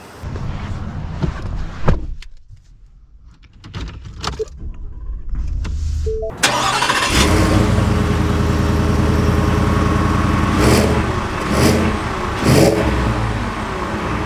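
A 2024 Ford F-150 or Ram 1500 pickup truck heard from the cab: quiet shuffling and a brief whir, then the engine starts with a sharp rise and settles into a loud steady hum as the truck pulls away.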